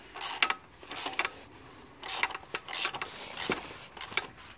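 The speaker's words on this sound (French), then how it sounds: "On met le cliquet. Et on serre gentiment." A ratchet tightens the oil filter on a 2.0 TDCi Ford Kuga during an oil change, giving a series of short, close clicking bursts separated by brief pauses, fairly quiet with no talking.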